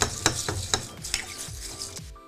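A spoon stirs cachaça over crushed ice in a glass, giving rhythmic scraping swishes with crisp ice clicks, about five or six strokes, close and moderately quiet, then fading out.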